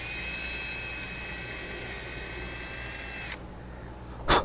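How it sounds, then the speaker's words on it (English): A power drill bores holes into the thin wall of a cracked vessel, a steady high whine running for a few seconds before stopping, followed by a brief clatter. "drill one set of holes above where our crack starts"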